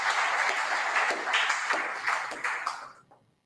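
A crowd claps at an NUP gathering in Jinja in one continuous, fairly loud burst lasting about three seconds before cutting off into quiet.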